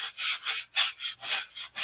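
Rough sanding of wood on a homebuilt airplane, six steady back-and-forth strokes of coarse abrasive in an even rhythm, close and alone with no talk.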